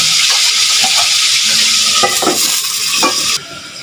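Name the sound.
fish frying in a covered pan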